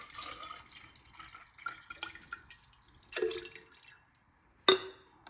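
Lion's mane water extract poured into an alcohol extract in a glass container: short bursts of splashing liquid and drips, intermittent and close, ending with a sharp glassy clink.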